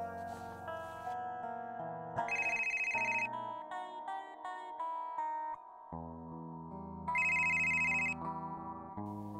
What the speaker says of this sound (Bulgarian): Звъни на Петър.